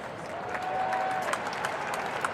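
Spectators at an amateur baseball World Series game between the LA Sharks and Seattle Rainiers applaud, a short, moderately distant burst of clapping from the crowd that holds steady for a couple of seconds.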